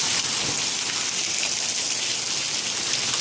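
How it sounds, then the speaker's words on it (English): Heavy rain pours off a roof onto a badly flooded front yard, a dense, steady, unbroken hiss throughout with no talking. "it's raining a lot from the roof"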